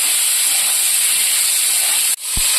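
Potatoes, cumin and spices sizzle loudly and steadily as they are stirred in a hot pan, with a brief dip and a soft clunk of the spoon near the end.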